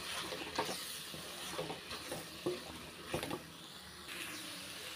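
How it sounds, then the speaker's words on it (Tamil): Vegetables tossed with chili powder in a pan for a Tamil kulambu, giving a steady soft sizzle with irregular scraping stirs and a few sharper clacks of the spoon against the pan, close and moderately quiet, with no talking. "அந்த மிளகாய்த்தூள் கூடயே நல்லா காய்கறியை சேர்த்து நல்லா மிக்ஸ் பண்ணியாச்சு"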